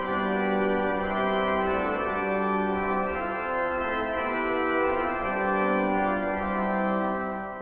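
Concert hall pipe organ sounding the original Walcker mixture stop with the Walcker principal, a bright, harmonically rich sustained chord that holds steadily and fills the space alone.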